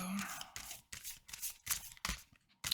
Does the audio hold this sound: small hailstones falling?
no